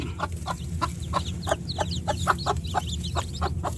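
Native chickens cluck in a quick, fairly regular series of close calls, mixed with higher peeping notes over a low background rumble.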